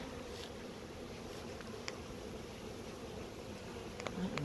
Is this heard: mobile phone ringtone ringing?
no